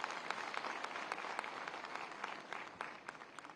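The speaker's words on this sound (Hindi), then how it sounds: "जोरदार तालियां।" Steady applause from a crowd at an annual convention of a school managers' association in Lucknow, a continuous wash of claps heard faintly and at a distance, without talk.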